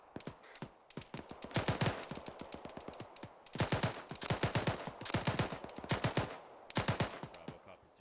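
Enemy gunfire to the west during a field training exercise: dense bursts of rapid rifle and machine-gun shots in several volleys, cracking loudly with short pauses between strings.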